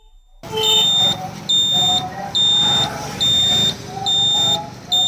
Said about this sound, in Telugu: మీకు ఒకసారి బీప్ సౌండ్ అయితే వస్తుంది, బట్ డిస్ప్లేలో కనిపించలేదు